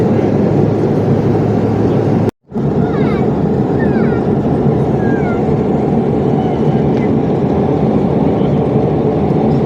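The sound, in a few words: airplane in flight over the mountains of Kyrgyzstan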